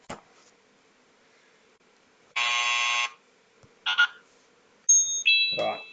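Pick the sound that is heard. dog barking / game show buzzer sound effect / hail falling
game show buzzer sound effect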